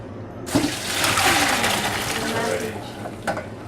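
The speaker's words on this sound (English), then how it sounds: "Once you're at your 6-minute mark, you just strain it." Water from a pot of cooked pasta pours and splashes out as it is strained, a loud gushing rush that starts abruptly and tapers, with a few clanks near the end.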